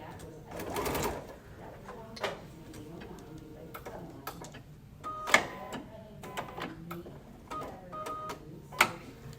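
A sewing machine stitches a fabric bowl with a back stitch, giving short bursts of quick mechanical ticking and clatter under a person talking nearby.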